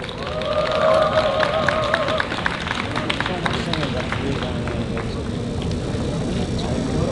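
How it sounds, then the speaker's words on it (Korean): A crowd at a Seoul National University student candlelight rally claps and cheers outdoors in a sustained, rough wash of applause, with a voice speaking over the first couple of seconds. "큰 박수 부탁드립니다"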